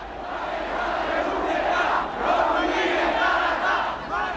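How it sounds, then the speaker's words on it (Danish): A large crowd gathered for a traditional Easter greeting roars in a sustained, far-off swell of cheering and shouting that rises and falls in waves without a break. "Den traditionelle påskehilsen vækker jubel."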